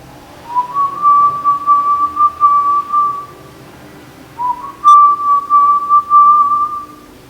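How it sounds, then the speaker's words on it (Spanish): A person whistles a song in two clear sustained melodic phrases separated by a short pause, close and fairly loud, with no talking. "comencé a silbar una canción"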